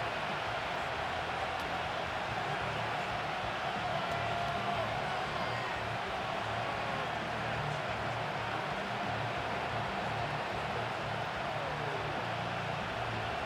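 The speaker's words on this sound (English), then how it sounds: "this crowd is rocking" Stadium crowd in Madden 25 at a Washington Commanders at New York Giants game, a dense, continuous roar of fans with a broad wash of noise and faint commentary-like voices underneath, steady throughout.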